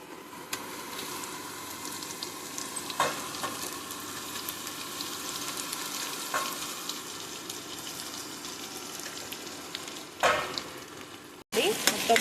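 A masala mixture for an ivy gourd (dondakaya) vegetable curry sizzles steadily in hot oil, a continuous loud frying hiss with occasional stirring scrapes.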